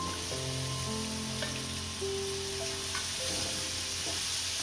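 Capsicum tossed into a pan with peas for a home-style vegetable curry, frying with a loud, steady sizzle under constant background hiss and hum, with occasional stirring scrapes.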